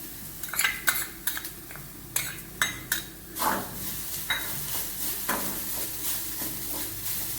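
Chopped coconut and shallots for a Kanyakumari fish curry drop into a pan and are stirred, with a burst of clattering utensil scrapes and clinks over a soft, steady sizzle.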